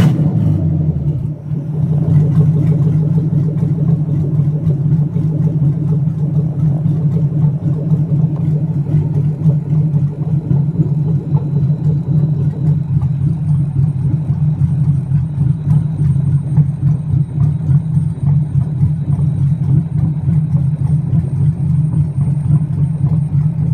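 A 5.7 G3 Hemi engine fitted with EZ-EFI idles steadily after starting, giving a loud, even, low rumble that holds without a break.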